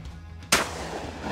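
A single loud shotgun blast fired at a clay bird target during an outdoor clay shootout in Rotorua, a sharp crack with a decaying tail.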